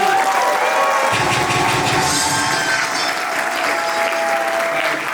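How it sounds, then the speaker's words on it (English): Loud, dense applause from a large audience at an iMillennials 2019 event, steady clapping filling the whole stretch with a few faint whistles and voices mixed in. "Now can we clap up all the chairmen that we have in front of the room, please?"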